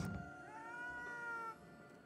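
A single drawn-out, slightly eerie cat meow from the video game Ghostwire Tokyo, clear and alone over quiet background, lasting about a second and a half before trailing off.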